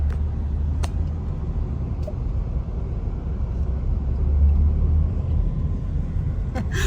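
Interior of a car driving through Hampstead, a steady low engine and road rumble throughout, with a few faint clicks and knocks over the drone.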